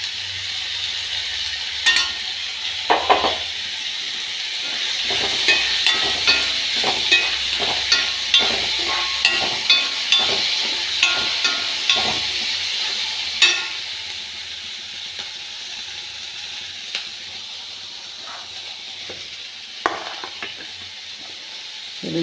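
Green chilies sizzle steadily in a hot pan in a home kitchen while a spoon stirs them, scraping the pan in a quick, uneven rhythm of close, distinct strokes over the continuous frying hiss.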